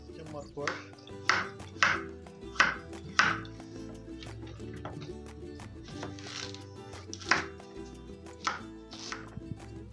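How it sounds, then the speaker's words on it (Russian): A knife chops vegetables coarsely on a board at an outdoor village cooking fire, with a run of sharp evenly spaced cuts, a pause, then a few more, close and fairly quiet. "идем нарезать другие овощи"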